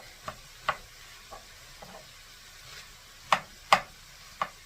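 Onion beef fried rice cooks in a pan with a soft continuous sizzle, broken by several sharp scrapes and knocks of a utensil against the pan, a few louder ones near the end, close up.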